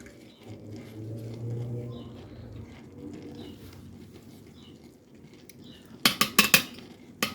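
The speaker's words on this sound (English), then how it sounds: "I'm gonna add another little spoon to each one of them" Chow chow relish being spooned into jars: faint soft scraping and handling first, then a quick run of sharp metal-on-glass clinks and taps near the end, close up, with a low hum in the background.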